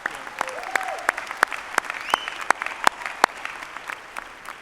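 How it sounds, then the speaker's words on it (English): Audience applause at Northwest Missouri State's Spring 2019 university commencement ceremony, a dense, steady clapping from a large crowd with a few sharper claps standing out, continuing throughout. "How about another round of applause for Chelsea?"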